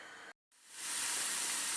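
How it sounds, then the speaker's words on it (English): Loud, steady sizzling hiss builds quickly after a brief silence, like onions hitting a hot pan and frying continuously. "let's get frying the onions"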